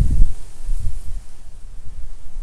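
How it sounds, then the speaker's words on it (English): Wind rumbles softly against the microphone in low gusts, strongest at the start and then settling into a steady faint buffeting. "oh, it's quite windy"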